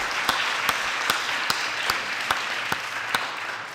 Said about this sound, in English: there's a round of applause there, I think